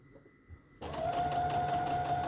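A sewing machine starts up after a quiet moment and runs steadily, stitching fabric and lace with a fast, even mechanical whir and motor hum, close and alone.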